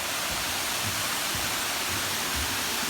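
A steady, broad rushing roar of a waterfall inside a 300-metre pit, constant and loud, with no pauses or voices.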